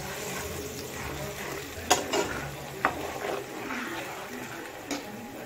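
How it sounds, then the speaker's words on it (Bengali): Spice paste with salt, turmeric, sugar and cumin powder sizzles softly in hot oil, a steady close frying hiss broken by a few scraping stirs of the pan. "সমস্ত মশলার পেস্টগুলো দেওয়ার পরে নুন, হলুদ, চিনি, জিরে গুঁড়ো দিয়ে আমি ভালো করে মশলাটাকে কষিয়ে নেব।"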